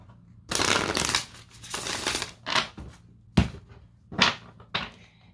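Bursts of shuffling oversized tarot cards, split into parts to shuffle, riffling and flapping in several uneven rounds with short pauses and a sharp tap between them.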